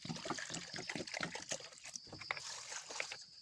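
Water splashes and trickles unevenly into a cooking pot, close by, with sloshing bursts and a steady pour throughout.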